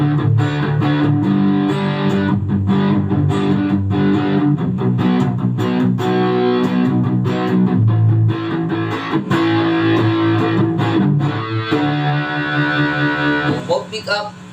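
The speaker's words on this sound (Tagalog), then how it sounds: "Gawin naman natin, gamit tayo ng distortion. So, unahin natin sa neck pickup." Stagg SEL-ZEB HB Les Paul electric guitar through distortion on the neck pickup, loud chords and riffs played in bursts with a brief pause near the end.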